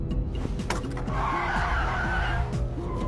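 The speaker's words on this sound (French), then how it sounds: "son chauffeur écrase brutalement les freins." A car brakes hard in a film scene, its tires skidding and squealing loudly for a few seconds against a rumbling engine and background score.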